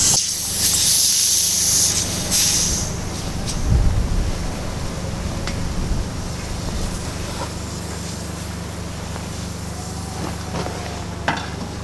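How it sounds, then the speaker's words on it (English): Air escapes in a steady, loud hiss from a leaking hose on a repaired air system after a tap is opened, the noise continuing unbroken and only gradually settling, with a few faint knocks underneath. "Big leak coming from the hose."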